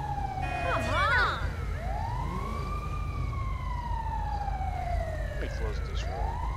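A wailing ambulance siren in GTA V sweeps up and down in long glides, loud and fairly close, over a steady low engine rumble with brief speech-like sounds early on.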